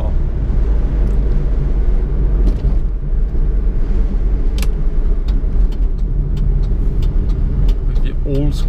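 A 1990 Nissan Pao car engine drones loudly and steadily from inside the cabin as it accelerates gently, with road noise underneath and brief speech near the end.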